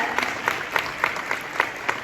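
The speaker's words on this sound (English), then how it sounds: "Yes, clap it up, yes." Steady audience applause fills a commencement ceremony hall, a dense continuous clapping wash from a large crowd with faint rhythmic accents throughout.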